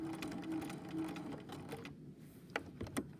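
A sewing machine backstitches at the end of a seam, giving a soft, rapid mechanical whir of needle strokes that speeds along and then slows into a few separate clicks and taps, faint and close.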